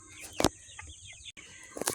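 Chickens, cockerels and pullets cluck nearby in short, sharp bursts, two or three quick calls separated by quieter shuffling in the pen.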